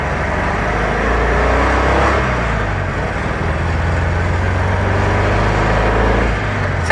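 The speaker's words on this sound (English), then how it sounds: "So with that, Nathan, you have revived this 1972 Super Beetle" A 1972 Volkswagen Super Beetle's engine runs steadily at idle, a loud, close, continuous low rumble with a constant hum that barely changes throughout.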